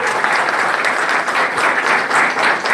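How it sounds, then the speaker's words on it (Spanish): At an ambulance handover ceremony, a crowd claps loudly and steadily, a dense, continuous burst of applause with no voices over it. "¡Fuerte el aplauso!"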